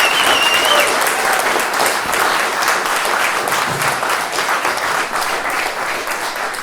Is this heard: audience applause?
yes